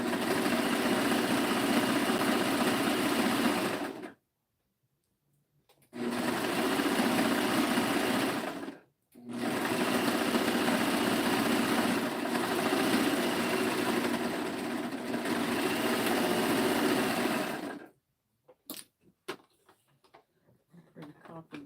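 A serger stitches knit sleeve seams in long continuous runs, loud and close, stopping briefly twice and then falling silent with a few small clicks and handling noises at the end.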